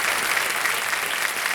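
Studio audience on the KBC India quiz show clapping, a steady dense wash of applause that stays loud and even throughout the short stretch.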